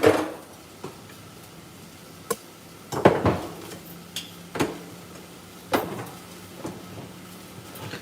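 A spoon stirs a cooking pot of a tomato paste dish, giving sporadic clinks and knocks against the metal, with a few sharper raps scattered through a quiet kitchen.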